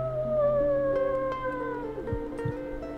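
A person imitates a howl as one long, slowly falling drawn-out tone, soft and close, with a few faint clicks near the end.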